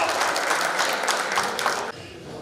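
Audience at a newspaper's anniversary gala in Kozan, Turkey, gives a dense, loud burst of applause that tails off sharply near the end.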